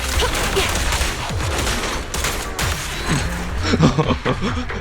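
Rapid bursts of gunfire from the video game Zenless Zone Zero, dense and loud throughout, with a voice talking over the shooting.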